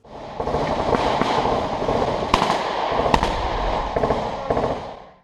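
Rapid bursts of gunfire in Ukraine, loud and continuous cracks and pops layered over a dense rumble, with sharper single reports standing out, no voices.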